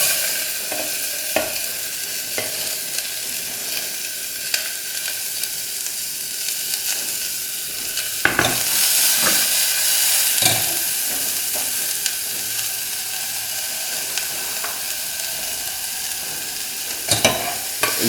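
Onions, garlic and ginger fry in hot oil with asafoetida, giving a steady, bright sizzle, while a utensil scrapes and taps the pan now and then, with a louder burst of hissing midway and no voices.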